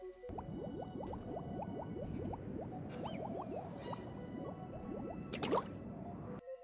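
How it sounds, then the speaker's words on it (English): Steady wet bubbling from a player hiding motionless in ink in Splatoon, dozens of quick rising blips in an even stream, fairly quiet, with a brief brighter splash near the end. "a player staying still in ink will make bubbling noises"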